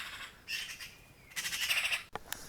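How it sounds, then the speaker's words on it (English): Bird squawks ring out during a morning walk in Staffordshire, a run of sharp, fairly close calls in two bursts separated by a short pause, with no talking. "These birds really remind me of Willy Wagtails."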